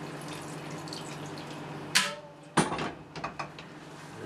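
Water poured into a pan of sweet and sour chicken sauce, heard as a couple of sharp splashes followed by softer drips and sloshing, close and fairly quiet over a low kitchen hum.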